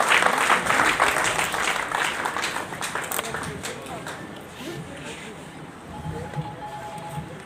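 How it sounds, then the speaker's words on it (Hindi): Audience at an SC/ST teachers' forum honouring event in Delhi claps in a burst of dense applause that gradually thins and fades, with a voice heard over it. "अगर प्रस्तुत है तो तालियां बजाइए, तालियां बजाइए आपके लिए"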